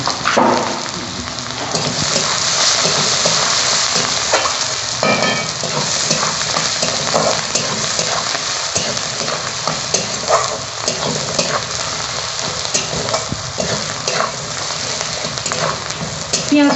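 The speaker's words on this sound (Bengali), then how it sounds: "পেঁয়াজটা মোটামুটি ভাজা হয়ে গেছে।" Onion frying in very hot oil in a wok for a Bengali rohu fish posto dish: a loud, steady crackling sizzle runs the whole time with occasional stirring scrapes, close up and with no talking.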